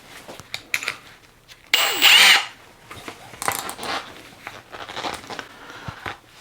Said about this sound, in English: Drilling, small hole right here, speed 3.